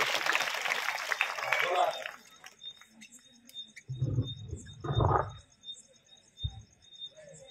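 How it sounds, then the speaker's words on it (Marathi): Audience clapping for children at a Navratri festival gathering, a burst of applause for about two seconds that dies away, followed by scattered talk and a few clinks. "सर्व मुलांनी छान बसायला म्हणल्याबद्दल जोरात टाळ्या वाजवा मुलांसाठी"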